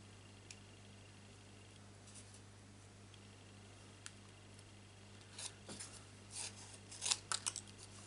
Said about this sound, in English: Cut round it the best you can.